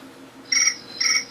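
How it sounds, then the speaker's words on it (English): Crickets chirping indoors at night, two short, bright, trilled chirps about half a second apart, fairly close and clear over a quiet background. "There's the crickets telling me that it is time to wrap up this week's episode"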